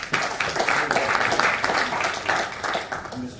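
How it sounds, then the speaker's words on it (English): Audience applause at the Afrobytes 2017 tech event, a full, continuous burst of many people clapping with steady loudness throughout. "give him a big round of applause"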